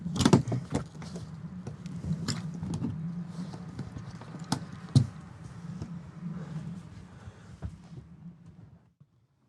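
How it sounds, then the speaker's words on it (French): The pop-up roof of a Pilote V600G camper van is unlatched and raised, giving several sharp clicks and knocks over a rustling mechanical rumble that fades to quiet at the end. "ce toit relevable, tac, on va l'ouvrir tout simplement"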